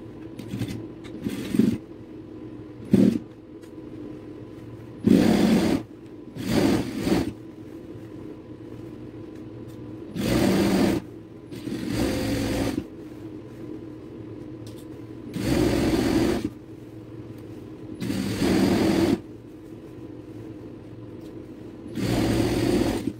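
A sewing machine stitches school uniform fabric in about nine short, loud mechanical bursts, each a rapid whirring run of stitches, separated by brief quiet pauses as the cloth is repositioned.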